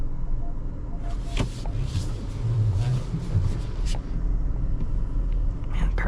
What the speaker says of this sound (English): Let's set off in the Overland.